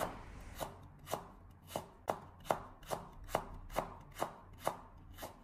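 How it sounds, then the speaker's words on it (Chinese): A knife slices a small piece of ginger into thin pieces on a cutting board, giving about a dozen evenly spaced, crisp chops at a steady rhythm, close and alone. "还有1小块生姜，我们同样的将它改刀切成小姜片。"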